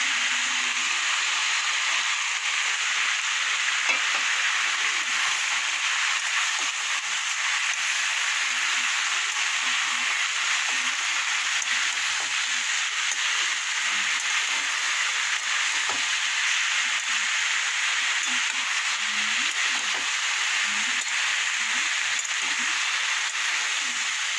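Spice paste mixed with a little water frying in a pan while being stirred for a Bengali mocha ghonto, a steady broadband sizzle and hiss running the whole time with faint scraping beneath, no voices.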